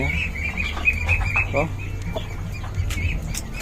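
Hens in a backyard coop cluck intermittently over a low steady hum, with a few sharper calls rising above the murmur and some faint voices in the background.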